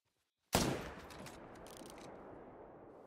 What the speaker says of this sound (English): So we put a shot in him.